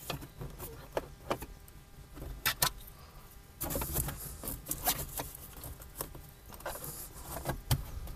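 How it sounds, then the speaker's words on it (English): Plastic pry tool working the housing cover off a Ford Maverick rear view mirror, producing a scattered series of sharp clicks, snaps and scraping rubs, fairly close and quiet. "And you want to just pry it open."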